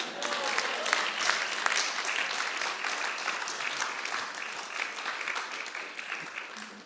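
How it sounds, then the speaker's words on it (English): A crowd at an initiation ceremony at Bhaktivedanta Manor breaks into sustained applause, a dense wash of clapping at moderate level, with faint voices mixed in beneath. "what a round of applause"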